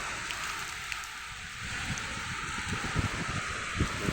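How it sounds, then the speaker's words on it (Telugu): A rain shower falls over crop fields, a steady close hiss of drops with scattered louder patters and a faint low rumble beneath. "మంచి ఉరుములతో జల్లు పడతా ఉన్నది"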